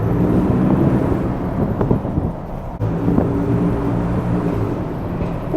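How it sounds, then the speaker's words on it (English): A Ford F-150 with the 3.5 EcoBoost and AWE exhaust rumbles steadily nearby in a garage, its low engine drone carrying a faint turbo whoosh that swells slightly partway through. "that's the thing I get complimented on the most, bro, is the turbo spool, the turbo noise"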